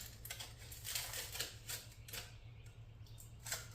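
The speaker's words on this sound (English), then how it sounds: "So first I gotta unwrap my steak." Crinkly plastic wrap being peeled off an individually wrapped steak in a kitchen, a steady run of soft rustles and crackles, close and fairly quiet with no talk.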